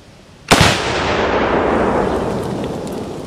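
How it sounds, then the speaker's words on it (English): A single loud rifle shot from a Saiga AK fitted with a short vertical foregrip cracks out after a brief quiet stretch, then rolls into a long, sustained rumbling echo that fills the rest of the moment. "Let's go ahead and take a couple more shots to see what happens."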